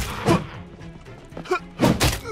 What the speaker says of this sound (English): We keep thumping each other.